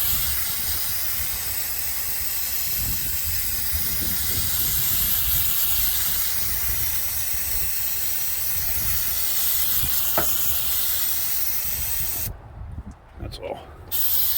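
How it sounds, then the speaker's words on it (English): Brake cleaner sprayed onto a Honda engine bay makes a loud, steady aerosol hiss lasting about twelve seconds before cutting off, followed by a brief spoken remark. "I'm just going to spray down some brake clean just to flush out what was there"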